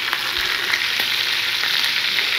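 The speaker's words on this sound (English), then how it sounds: "We have the cast iron hot to sear the bottom." Picanha searing in a hot cast iron pan, a loud, even hiss of frying fat with no voices over it.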